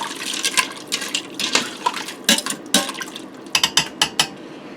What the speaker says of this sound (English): I'm just going to give that a stir quick